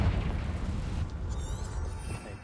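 A Confringo explosion spell in Hogwarts Legacy bursts as a deep, loud boom that rumbles and slowly fades over a couple of seconds.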